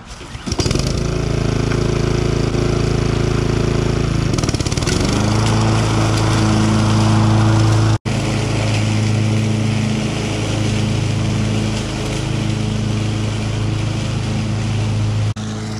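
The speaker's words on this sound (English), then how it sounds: "This mower does a great job shredding the leaves, so you'll be able to fit a ton of leaves in each bag." A powerful Honda lawn mower runs steadily while shredding and bagging leaves, its engine drone loud and close, the pitch shifting slightly midway as the load changes.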